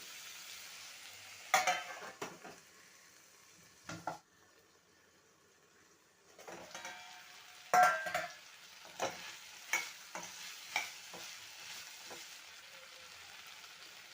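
Tomatoes cook in a pan for green chilli chutney, giving a low, steady sizzle broken by louder scraping and clattering bursts as they are stirred. One stretch goes almost silent.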